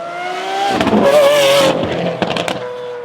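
A red Lamborghini Aventador supercar drives past with a loud, rising engine roar that swells and then fades, with brief sharper bursts near the end.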